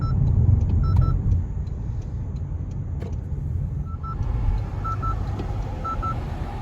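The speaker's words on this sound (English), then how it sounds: "there's going to be an audible alert to let you know, hey, don't make that turn, there's actually a vehicle there." An Advent ADVBSD30 aftermarket blind spot monitor sounds short paired electronic beeps several times inside a moving car, with steady road and engine rumble underneath.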